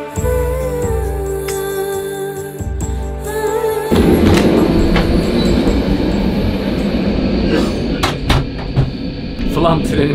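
Steady rumbling of the Flåm Railway train in Norway on the rails, with rattling carriages and occasional clicks, loud and continuous, with some talk in the background.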